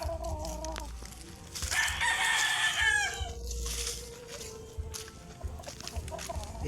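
A rooster crows loudly and close by among clucking backyard chickens in the Philippines, one long drawn-out call standing out over a steady farmyard murmur.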